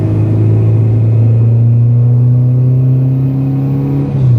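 A Honda Integra with a tuned B20B engine cruises on a street, its loud, steady engine drone rising slowly in pitch before easing off at the end, heard from inside the car with no talking.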